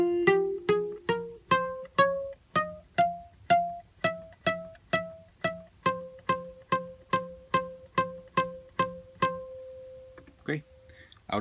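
A guitar plays a melodic phrase from a song, a steady run of about twenty evenly spaced plucked notes, close and clean, ending on a held note and a brief strum.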